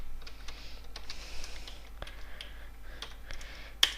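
Soft, scattered keystrokes on a computer keyboard while entering C code, irregular quiet clicks in a still room, ending with one sharper key press.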